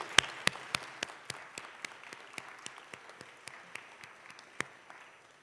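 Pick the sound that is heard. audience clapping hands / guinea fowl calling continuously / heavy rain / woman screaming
audience clapping hands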